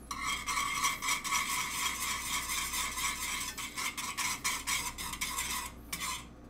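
A spoon stirs a broth-based sauce in a pot, giving a steady, quiet run of rhythmic scraping and clinking strokes near the microphone with no talking.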